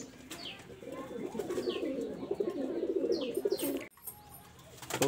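An Andhra Kalshira pigeon coos in a loft in Kolkata, giving a close, steady run of soft throaty coos with faint chirps from other birds around it.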